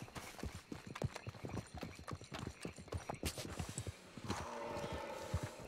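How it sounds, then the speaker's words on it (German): Horse hooves clip-clop in a steady, rhythmic gait in the video game Red Dead Online at night. The hoofbeats are fairly soft and continuous and are heard alone without talk. "Das Pferd kann schon mal wiederkommen."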